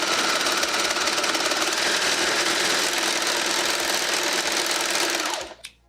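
A serger stitches a T-shirt seam at steady high speed, a loud continuous mechanical whir with rapid needle chatter that runs for about five seconds and then winds down to a stop.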